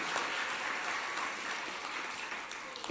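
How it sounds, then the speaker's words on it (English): Steady applause from an audience at a teen press conference, a dense continuous patter of clapping held at an even level for a few seconds without pause. "Let's give a round of applause for Catherine."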